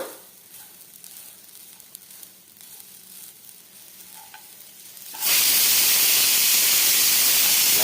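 Grated coconut roasting in a pan: soft stirring and a light sizzle, then an abrupt surge into a loud, steady, steam-like hiss for the final seconds.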